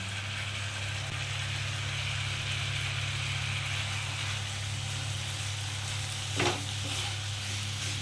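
Chicken mixture for a spicy home-style chicken vorta being stir-fried in a pan, giving a steady close sizzle and frying hiss over a constant low hum, with one brief louder scrape near the end.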